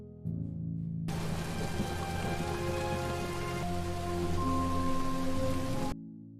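Heavy rain pours down in a dense, steady patter, with sustained musical tones running beneath it before it cuts off abruptly.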